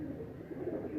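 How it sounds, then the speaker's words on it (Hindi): A champion racing pigeon hen coos softly at close range, a low throaty burble repeating through the moment with no one speaking. "ये चैम्पियन कबूतरी है मेरी"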